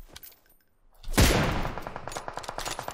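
Gunfire in PUBG Mobile on the Erangel map: a sudden loud blast followed by a rapid burst of shots that tapers off, heard with no talk over it.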